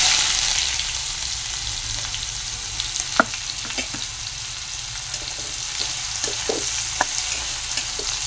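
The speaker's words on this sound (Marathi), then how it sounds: "कांदा छान असा परतून घ्यायचा आहे, थोडासा लालसर कलर येईपर्यंत" Onion sautéing in oil in a frying pan with cumin and asafoetida, a steady, close hiss of frying with occasional soft spoon taps and scrapes scattered through.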